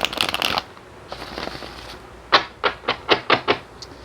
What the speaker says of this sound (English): I have two oracle decks all in one, so it's pretty hard to shuffle.